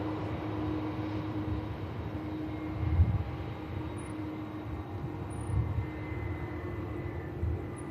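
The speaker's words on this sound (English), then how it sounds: "CF6 power plants on board this awesome 330" An Airbus A330 with CF6 engines rumbles steadily at Manchester Airport during a hydraulic check, a low, even engine drone with a faint whine and mild swells, moderately distant.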